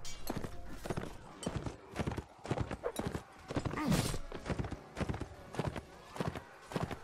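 Horse hooves clip-clop in quick, uneven bursts inside a Warband medieval battle mod, set against a busy din of clashing combat, with a brief whinny near the middle.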